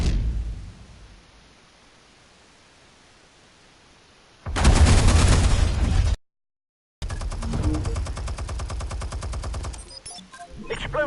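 Gunfire in the video game Batman Telltale, a loud rapid volley after a quiet stretch, then a brief silence and more sustained rattling fire.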